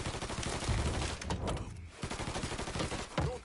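Gunfire in the video game Mafia 3, loud rapid bursts of automatic shots crackling almost continuously, with a brief lull midway before the firing resumes.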